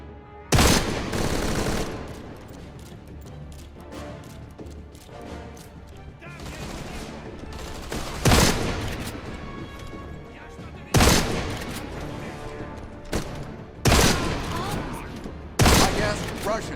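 Gunfire from enemy soldiers in the video game Deadfall Adventures: dense, continuous automatic-weapon fusillade with repeated heavier booms and bursts throughout, over a game soundscape.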